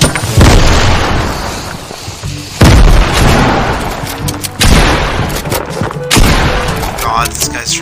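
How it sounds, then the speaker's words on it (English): Several grenade explosions go off in Fortnite Chapter 2, four loud booming blasts spaced a couple of seconds apart, each fading into rumbling battle noise. "I'm gonna throw some grenades in over here."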